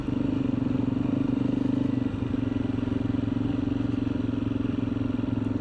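A motorcycle rides steadily along a country road near Spark Bridge, its engine droning loudly and continuously with a constant low hum and wind rush throughout.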